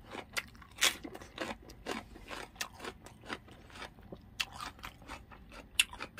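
Someone chews freshly caught halfbeak fish close up, with repeated crisp bites and crunches in an irregular rhythm, quiet and without talk.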